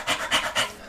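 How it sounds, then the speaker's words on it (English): A dog named Austin pants close by in three quick, breathy rasps, loud and rhythmic with nothing else heard. "if you hear panting, jumping, click-clacking... That's just Austin. My dog is going bananas right now"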